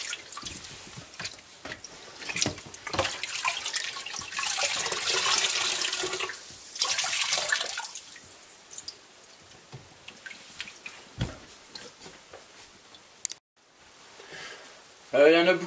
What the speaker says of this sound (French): Puis ensuite le rincer avec l'eau jusqu'à temps qu'il soit complètement propre